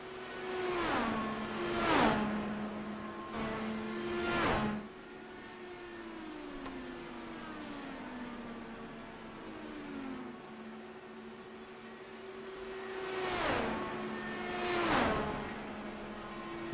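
Race cars howl past at Atlanta Motor Speedway during an IndyCar league event, engines rising and falling in pitch as they sweep by, with two loud passes at the start and two near the end over a steady distant drone.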